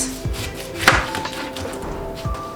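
A knife cuts through food on a board in a few sparse, soft chopping taps, with one sharper knock near the middle and light kitchen background noise.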